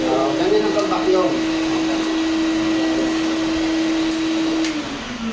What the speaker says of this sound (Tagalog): Ganyan ang pag-vacuum.